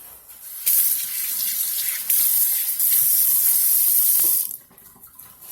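Fish marinade liquid pours into a sink in a steady splashing gush lasting a few seconds, loud and close, with a short break partway through before it stops.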